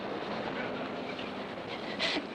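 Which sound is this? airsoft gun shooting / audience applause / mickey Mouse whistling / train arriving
train arriving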